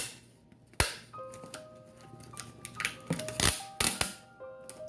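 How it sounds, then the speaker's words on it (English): Scotch tape pulled off a stubborn roll and pressed down onto a package, heard as sharp close crackling rips and snaps in several bursts, with quieter rustles between. "I don't know why Scotch tape like this is always so loud."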